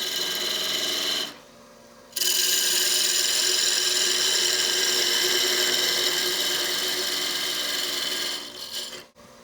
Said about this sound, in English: So we're going to get it back on the lathe.